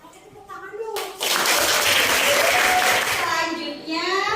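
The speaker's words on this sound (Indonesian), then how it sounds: "Oke, tepuk tangan dong." A classroom of students clapping together, a dense burst of applause that swells quickly, holds for a few seconds and fades, with children's voices chattering before and after.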